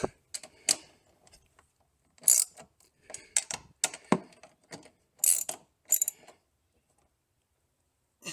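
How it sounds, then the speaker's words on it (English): Ratchet tightening bolts on the rail of a Worksport AL4 flip-up hard tonneau cover on a truck, heard as several short bursts of quick, close metallic clicking separated by brief pauses. "Next I'll try to press down on the rail and tighten those bolts with a really good seal."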